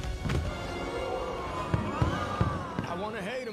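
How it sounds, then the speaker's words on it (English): Fireworks explode in a movie scene as a few sharp bangs spaced across the middle of the clip, partly buried under music and voices that run throughout. "I gotta respect the man's fireworks budget"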